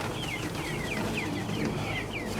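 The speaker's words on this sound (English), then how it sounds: "Got a broody hen over here, the one that went broody last time." A small flock of chickens, including a broody hen, gives a steady series of soft repeated clucks and chirps at moderate distance over low outdoor background noise.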